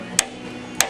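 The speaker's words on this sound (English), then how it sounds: "you can take a hammer and just tap that off" A hammer taps slag off plasma-cut steel from a Hypertherm Powermax 800 cutter, two sharp metallic strikes about half a second apart over a steady background hum.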